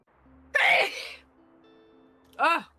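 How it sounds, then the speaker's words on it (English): A person with a cold sneezes loudly and close, a breathy explosive burst, then a voiced outburst a couple of seconds later after a quiet pause. "That sneeze that like gave up on me for a minute."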